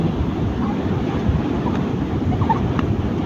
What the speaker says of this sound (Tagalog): Talagang sinusuong po ang laki ng alon.